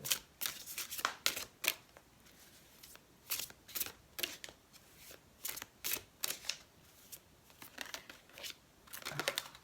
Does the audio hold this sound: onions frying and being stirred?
no